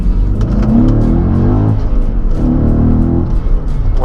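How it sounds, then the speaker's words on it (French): Audi RS4 V8 (420 hp) revving while stationary, two loud throaty surges rising and falling close by with a deep rumbling idle between them. "je vais aller vous montrer la sonorité de ce V8"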